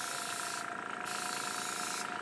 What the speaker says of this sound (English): There isn't a lot of room for adjustment with this airbrush, but it's good enough to get a fine spray